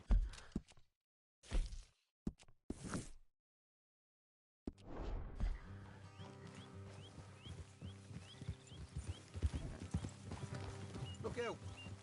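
In Red Dead Redemption 2, a horse's hooves clip-clop in a galloping rhythm after a few short bursts of speech and a pause, then continue steadily under game music and ambience.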